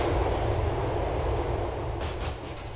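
A train rolls past in Grand Theft Auto IV, a steady loud rumble of wheels and cars that eases slightly toward the end, with no talk over it.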